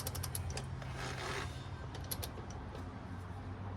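A plastic fuel filter cap is twisted tight on a 6.4 diesel truck, giving soft, close creaking and clicking ratchet-like ticks under a steady low background hum, with no talking.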